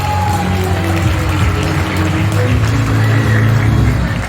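An audience claps during a stage guest performance, a sustained wash of dense, loud applause blended with a steady low musical hum, swelling slightly toward the end before easing off.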